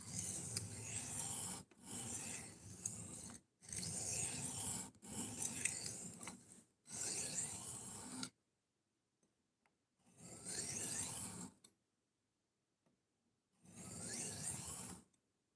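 A knife is sharpened in a run of rhythmic scraping strokes, each a coarse rasp lasting about one to one and a half seconds, with a longer quiet gap before the last few strokes, close and clear without talk.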